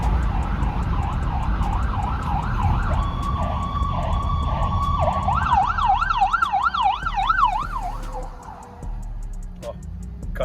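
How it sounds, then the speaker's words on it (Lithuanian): A fire engine siren wails as it passes close by, its tone shifting through several warbling patterns and fading toward the end over steady street noise. "Ką tik pravažiavo. Pirmą kartą taip įvyko. Gaisrinė pravažiavo."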